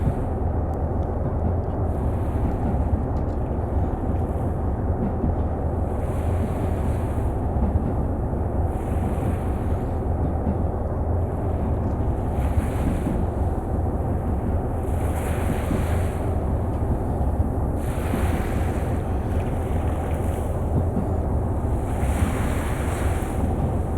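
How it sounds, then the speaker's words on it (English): Ocean surf from Train Simulator Classic, a steady roar of breaking waves close by, with swells rising and falling every few seconds under constant wind, no voices. "we can hear the ocean nearby"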